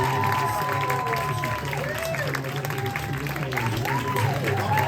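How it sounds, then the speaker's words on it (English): A comedy club audience applauds and cheers, producing a steady wash of clapping with crowd noise, while a voice talks over it. "Give him a big ass round of applause right now."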